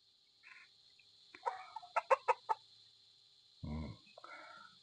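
A golden Sweater-breed gamefowl rooster clucks nearby in a farm pen, giving a quick run of four or five sharp, evenly spaced clucks followed by a lower, drawn-out call, with a steady high hum behind it.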